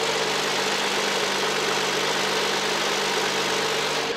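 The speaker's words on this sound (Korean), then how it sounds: "엔진 소리 한번 바로 들려드릴게요" A Kia K7 3.0 V6 LPG engine idles steadily up close with the hood open, an even, smooth hum with a faint rhythmic throb and no other sounds.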